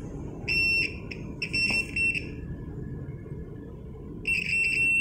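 A shrill battery-powered electronic buzzer on a homemade circuit tester sounds in several short bursts with brief gaps, then falls silent before one more burst near the end, over low background hum.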